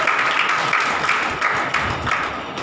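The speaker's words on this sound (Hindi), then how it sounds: "ताली बजा के ध्यान दीजिए" Audience at a Hindi Bible study clapping together, a roomful of hands giving a fairly even rhythmic patter with slight pulses, moderately loud and unaccompanied by speech.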